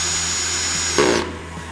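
A power drill runs loudly and steadily close by in a woodworking shop, then its pitch shifts and the whine drops away near the end.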